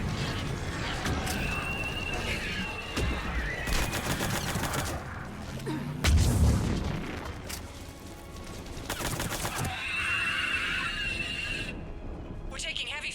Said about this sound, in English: We're taking heavy fire from the second story.